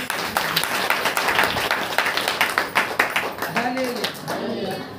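Congregation at a Saturday church meeting clapping hands in a steady, rhythmic beat, loud and close, while a voice calls out over the clapping near the end.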